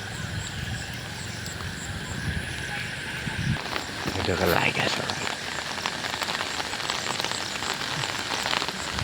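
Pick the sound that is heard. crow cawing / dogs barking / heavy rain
heavy rain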